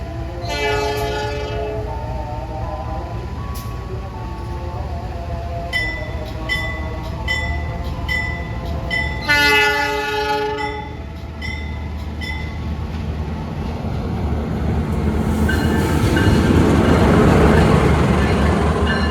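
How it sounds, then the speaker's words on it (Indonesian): A Lodaya passenger train passes close by on a parallel track in Indonesia, with repeated horn blasts, clattering wheels and squealing, the rushing roar swelling loud toward the end. "Bersilang dengan kereta api Lodaya"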